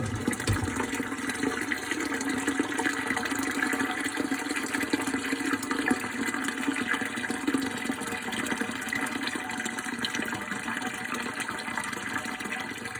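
A garden-hose-sized stream of water flows from a teed pipe into a sump pump basin in a house's foundation, a constant loud rushing splash that holds steady for the whole stretch with no talking.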